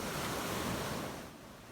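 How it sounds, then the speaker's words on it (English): Rough ocean surf rolling onto a beach just after Hurricane Sally, a steady loud broadband roar of breaking waves with no voices, easing slightly toward the end. "that water was roiling"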